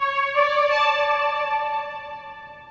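An airy synth lead drenched in reverb and played without delay holds one bright, clear note that slowly fades over a couple of seconds, heard alone.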